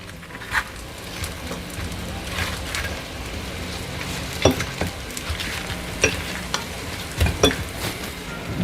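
Fish frying in a pan of hot oil for Jamaican escovitch fish: a continuous close sizzle with scattered pops and the occasional scrape of a utensil against the pan.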